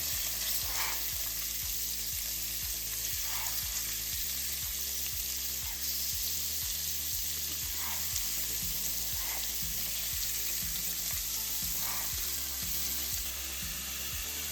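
Thin slices of beef for Asian beef and broccoli fry in a pan with a constant hissing sizzle. A soft, rhythmic low tapping and a few faint clinks of cookware sit beneath it, and nobody speaks.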